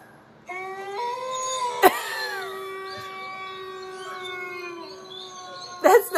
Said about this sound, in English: Animals howls and growls.